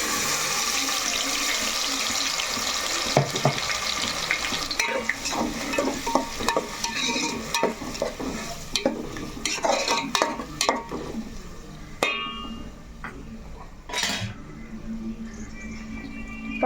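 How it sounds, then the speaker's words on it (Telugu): Onion paste sizzles and is stirred in a pan, with repeated scraping strokes and clatter over a steady frying hiss, close and fairly loud with no talking. "ఉల్లిపాయ ముద్ద కూడా వేసేసుకుందాం."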